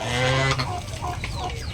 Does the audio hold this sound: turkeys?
yes